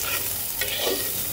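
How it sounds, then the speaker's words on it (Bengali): Vegetables with a bay leaf and a dried chili fry in oil, giving a brief, close sizzle with stirring scrapes. "এইবার সবকিছু সুন্দর করে ভেজে নেব। ভাজার সাথে সাথে এর মধ্যে দিয়ে দেবো একটা তেজপাতা আর একটা শুকনো মরিচ।"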